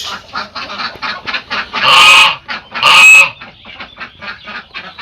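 Two loud, harsh goose honks ring out close by, amid a background of rapid clucking and chatter from other fowl.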